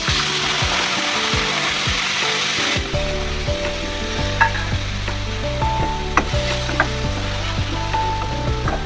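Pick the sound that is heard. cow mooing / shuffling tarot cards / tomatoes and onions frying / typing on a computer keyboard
tomatoes and onions frying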